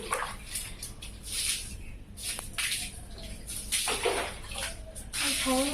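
Water splashes and sprays while a bicycle is washed outdoors, an uneven series of close gushes and trickles, with brief faint voices in the background.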